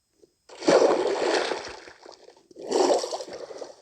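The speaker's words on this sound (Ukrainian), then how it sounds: "бо я у воду впав." A video game character falls into water, giving two splashes with a short gap between them, each one bursting up and then sloshing away.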